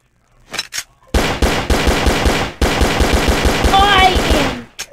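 Rapid automatic gunfire rings out in the video game Military Tycoon, loud and close, in long sustained bursts with a short break partway through, preceded by a couple of isolated shots.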